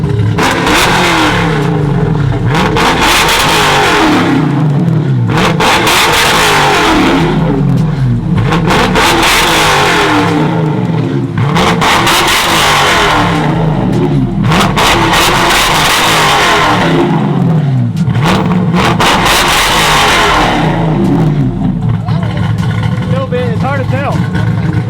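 A truck engine revs up repeatedly in loud surges, with people talking over the roar between bursts.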